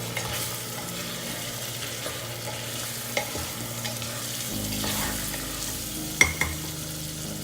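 Red chili powder being stirred into vegetables frying in a pan for undhiyu, a soft sizzle under scraping stirs with a couple of sharp clinks, close and fairly quiet, no talking.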